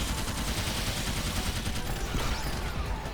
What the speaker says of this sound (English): I mean, it's a Gateling Gun, after all